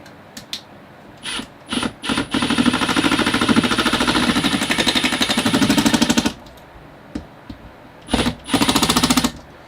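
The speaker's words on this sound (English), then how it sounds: "I've changed tools to my impact driver. So let's get this bracket up now." A Milwaukee impact driver drives fasteners to mount a bracket, firing in several short rattling bursts and one long sustained hammering run, close and loud with brief pauses between.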